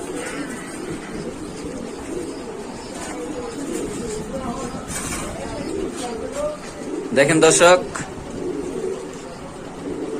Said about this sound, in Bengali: আসলে দেখেন রবিন ভাই হাতে আমি দেখাচ্ছি কবুতর গুলা